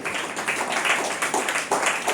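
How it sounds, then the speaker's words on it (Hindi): A church congregation claps together in rhythmic bursts of loud applause. The clapping swells and dips in quick waves, with faint speech underneath. "जोर से ताली बजाइए आपके लिए और प्रभु के लिए।"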